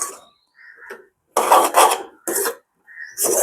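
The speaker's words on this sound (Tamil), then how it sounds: "இப்போ வந்து அங்கால வச்சிட்டு நாங்க இது இருக்கா திருப்பியும் வடிவா கிண்டி விடுவோம்" Peanut halwa made with palm jaggery is stirred in a pan, giving loud rasping scrapes in several short bursts separated by brief pauses, close up with no talking.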